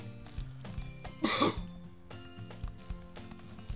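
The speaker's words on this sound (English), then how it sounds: "that was another annoying cough" A single short, throaty cough sounds in the middle, set among quiet background noises and music.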